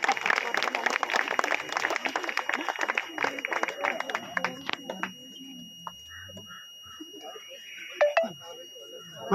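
Audience applause for senior members being honoured at a group ceremony, a burst of clapping that fades after a few seconds, followed by quieter scattered sounds and a faint voice.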